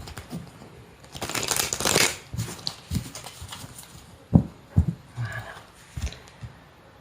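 Tarot cards are shuffled up close in a burst of riffling and flapping, followed by several soft taps and slaps as the deck is squared and laid down, with no talk.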